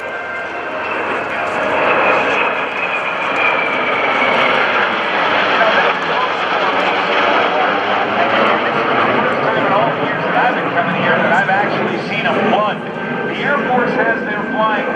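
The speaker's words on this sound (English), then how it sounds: "Plugged and receiving fuel is an F-18C from BFA 106, piloted by Lieutenant Gasser." F/A-18C jet during an aerial refueling demonstration at an airshow, a continuous roaring engine wash heard from a distance beneath a loud announcer's voice.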